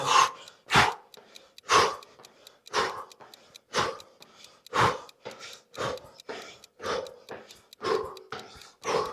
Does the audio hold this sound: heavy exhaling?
yes